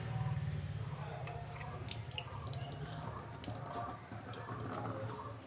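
Water drips and splashes while fish are washed in a kitchen, a close, soft patter of drops and trickling over a low hum, with no talking.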